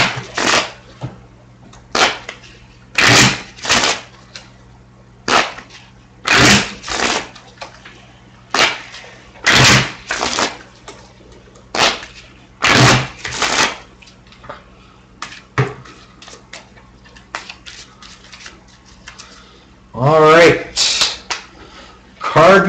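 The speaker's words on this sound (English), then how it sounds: "And then I'm going to do some quick shuffling." Quick shuffling of a deck of 2013/14 Panini Titanium trading cards: a run of crisp, papery riffle bursts in an uneven rhythm, close by, with a voice talking briefly near the end.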